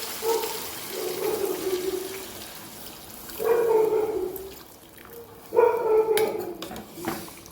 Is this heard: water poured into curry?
yes